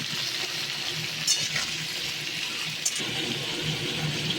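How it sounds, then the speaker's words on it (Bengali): Washed papaya and potato pieces dropped into hot oil with panch phoron and a dried red chilli, a continuous close sizzle with a couple of brief utensil clinks. "ধুয়ে রাখা পেঁপে ও আলুগুলোও ছেড়ে দিলাম।"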